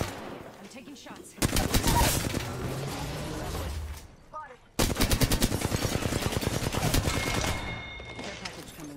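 Rapid bursts of automatic gunfire from the Apex Legends shooter game crackle loudly in two long sustained volleys separated by a brief pause, with game effects layered underneath.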